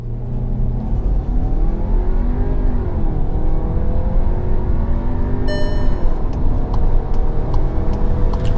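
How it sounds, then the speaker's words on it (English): A car engine revs hard against the brake for a launch control start, a loud sustained growl with rising and falling pitch, then a sharper surge as the revs climb before holding steady. "Left foot on the brake, right foot on the accelerator, revving the motor, launch control."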